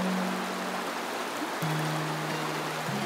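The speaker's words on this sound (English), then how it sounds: "This is a fun little creek." A small creek flows at a fishing spot on the Sevier River in Utah, giving a steady, close rush of water with a faint tonal hum running beneath it.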